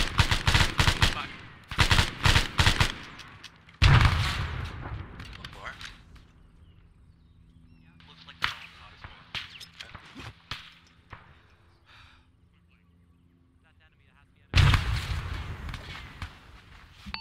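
Bursts of rifle and machine-gun fire in the Arma 3 video game crack out in rapid volleys, loud and close, then thin to sporadic shots and quiet stretches before another heavy burst, with voices talking over the action.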